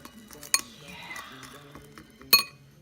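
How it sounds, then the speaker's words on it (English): Vegan waffle batter made with almond milk is whisked in a bowl, soft scraping strokes broken by two sharp clinks of the whisk against the rim, close up and fairly quiet. "Whisk that stuff up. Get it nice and smooth."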